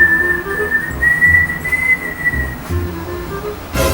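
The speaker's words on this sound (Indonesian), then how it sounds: "lagi siul-siul di dalam rumah" A person whistles a sustained, wavering tune indoors in a house, clear and close, with low background rumbles and a brief burst of noise at the end.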